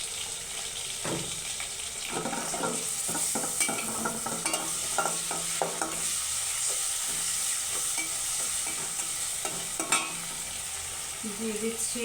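Ginger-garlic paste frying in a pan while cooking egg biryani: a soft, steady sizzle runs throughout, broken by repeated scraping and stirring strokes at close range.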